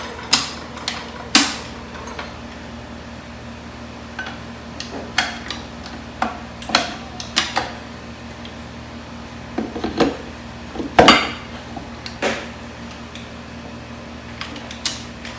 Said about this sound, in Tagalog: we're going to mix this butter